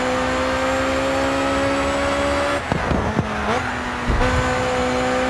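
A race car in the video game GRID 2 roars at a steady, high-pitched whine, then briefly dips and shifts before climbing again, loud and continuous with no voices.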